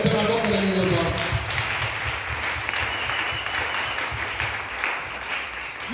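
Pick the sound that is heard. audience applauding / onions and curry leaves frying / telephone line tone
audience applauding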